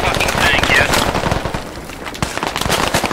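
Rapid automatic gunfire in the military shooter game Squad, loud and close, dense bursts rattling through the first couple of seconds and continuing more sparsely, with voices talking over the shooting.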